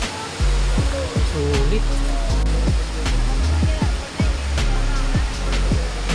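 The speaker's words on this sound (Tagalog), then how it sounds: "Ganda ng waterfalls mga katropa, oh." Torc Waterfall rushing loudly in a steady, dense roar that fills the scene, with someone briefly speaking over it.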